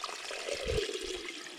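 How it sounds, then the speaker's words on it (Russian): Water poured and scooped into a keep net made from bottles for holding small bait fish, a short near splashing gurgle with a brief swell in the middle, no talk. "Теперь мы сюда набираем воду."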